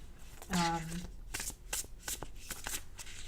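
Tarot cards being shuffled by hand in a quiet room, a riffling burst of papery flutters followed by softer, irregular card slaps and handling sounds, close and moderately loud.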